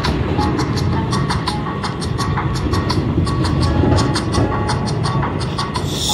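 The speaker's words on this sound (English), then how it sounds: "Abdul Cali, Philly Pete, freestyling on the train, recording on the train." Steady rumble of a moving train heard from inside a carriage, with continuous low-frequency noise and faint repeated rail clicks running throughout at an even level.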